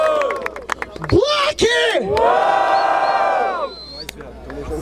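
Crowd cheering and shouting at a rap battle semifinal in Barueri, São Paulo, a loud, sustained roar under a host's amplified shouting voice.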